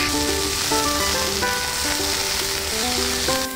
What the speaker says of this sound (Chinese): 煎得滋滋作响